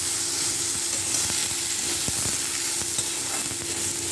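Vegetables for a Bengali sukto sizzle steadily in hot oil in a pan, a loud continuous frying hiss broken by scattered sharp clicks of stirring.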